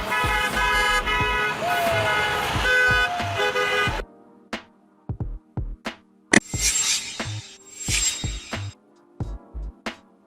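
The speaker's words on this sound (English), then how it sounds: "School bus. A specifically designed bus for transporting students to and from school." A school bus sounds its horn in several short, sharp honks spaced a few seconds apart, following a stretch of steadier, louder vehicle noise.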